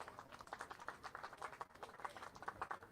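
Faint audience applause for performers at a science demonstration livestream, a steady patter of many hands clapping heard from a distance, continuous with no voices.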